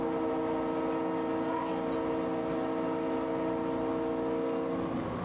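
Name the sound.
EMD diesel locomotive train passing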